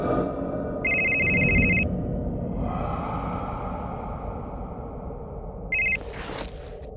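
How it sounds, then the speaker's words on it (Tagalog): A black cellphone rings with a bright electronic ringtone in two bursts, one long and one short, over a low background hum with no voices. "biglang mag-ring ang cellphone na itim na hawak ko"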